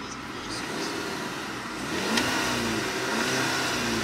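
A 2012 Volkswagen GTI with 113,000 miles, its engine rising in a smooth rev and falling back to a steady idle hum, heard close and continuous with no one speaking.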